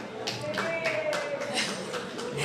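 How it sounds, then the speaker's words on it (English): Applause from a crowd at a veterans luncheon in a senior center, steady and fairly loud, with scattered individual claps and some background chatter throughout. "Those are well-deserved applause for Vicki and her crew."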